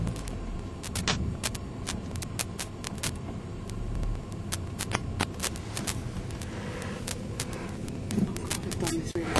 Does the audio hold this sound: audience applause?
no